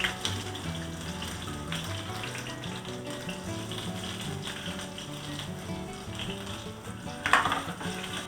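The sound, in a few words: ginger and garlic sizzling as they fry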